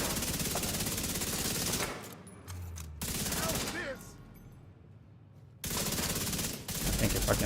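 Rapid automatic gunfire in the video game The Division 2, loud bursts of shots broken by short pauses, with quieter stretches in between carrying faint game sounds.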